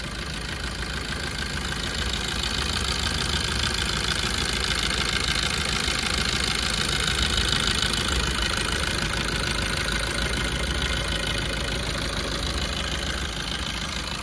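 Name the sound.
car engine idling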